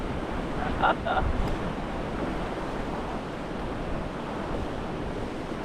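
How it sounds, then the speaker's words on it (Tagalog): Steady rushing wash of river water flowing beneath a bridge on a mountain bikepacking route, broadband and continuous with some wind buffeting, and a couple of faint brief sounds near the start. "Ilog."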